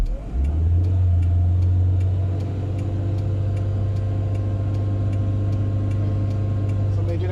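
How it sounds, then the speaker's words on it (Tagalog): A 1997 Mitsubishi Lancer engine is revved up from idle and held at a raised, steady drone, close and loud, with a faint regular ticking running alongside. "So rev natin yung makina."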